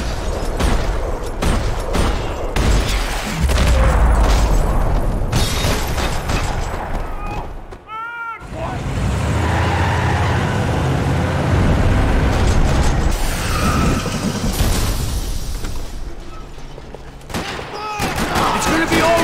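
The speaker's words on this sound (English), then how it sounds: "Another parking lot rattling with gunfire." Gunfire rattles through a parking lot in the video game Max Payne 3, with dense, loud bursts of shots and clattering mechanical sounds that continue for most of the stretch, broken by one brief lull.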